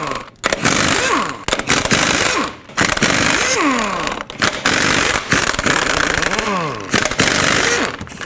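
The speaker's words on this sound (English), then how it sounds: "use your 22 millimeter socket and remove all 8 of your lug nuts" Impact wrench with a 22 mm socket removing the eight wheel lug nuts on a 2008-2010 Ford F-250, loud close bursts of rattling hammering that rise and fall between short pauses, with no voice.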